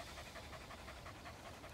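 A Brittany spaniel (Epagneul Breton) pants quickly and steadily at close range at a dog event in Plovdiv, each short breath following the last in an even, rapid rhythm, with no talking.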